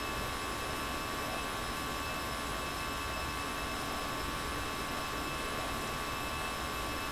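Airbus A320 engines climbing out after takeoff from Reno in the X-Plane flight simulator, a steady broadband jet roar with a high whine held at an even level throughout, no voices.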